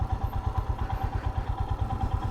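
A motorcycle engine idles at close range, its low, steady pulsing thump running evenly throughout with a faint mid-range hum above it.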